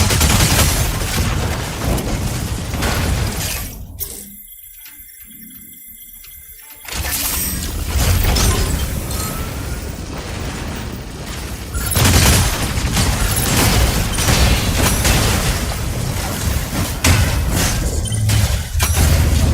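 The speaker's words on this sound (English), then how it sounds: "Explosion in the elevator's mid. Garrison's lower section disintegrating." Explosions and gunfire rumble in the mech combat video game Mecha BREAK as an elevator garrison's lower section collapses, a dense, loud, continuous roar of blasts and shots with a brief muffled lull early on.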